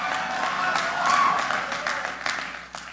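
Applause from an audience at the March for Life rally during a speech by Speaker Mike Johnson, a dense wash of clapping that swells in the middle and trails off near the end, with faint voices mixed in.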